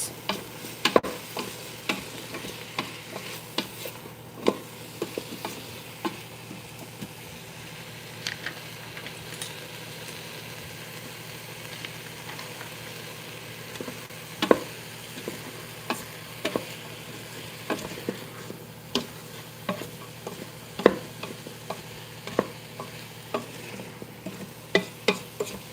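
Onions with a pinch of crushed red pepper flakes sauté in a pot for beef stew, giving a low, steady sizzle broken by scattered ticks and clicks of stirring over nearly half a minute, with no talking.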